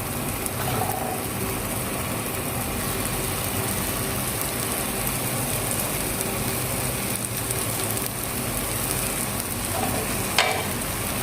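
A gluten-free pancake fries in a pan with a steady, dense sizzle that runs unbroken throughout, close up and without talking.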